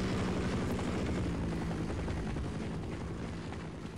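In the video game Half-Life, a helicopter's rotor beats with a continuous chopping thrum, strong at first and easing slightly toward the end, with no talking over it.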